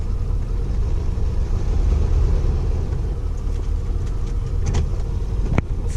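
A motorhome that had a no-start problem runs its engine as it backs up slowly on a short test drive, a steady low rumbling drone heard nearby with a brief click toward the end and no talk.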